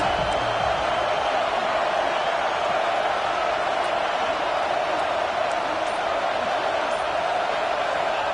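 A Canadian football stadium crowd roars in support of the defense before a big third down, a dense, steady wall of cheering and noise that holds at constant loudness throughout.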